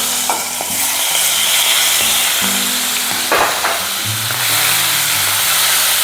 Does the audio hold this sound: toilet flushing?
no